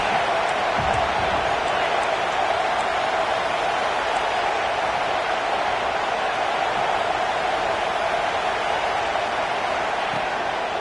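A packed stadium crowd roaring at an Ohio State vs Clemson college football game, a constant loud wash of cheering and applause that holds steady throughout.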